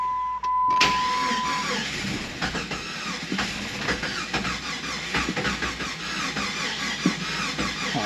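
Jeep engine cranking over and trying to start, a steady loud grinding whir from close by that runs the whole stretch without catching.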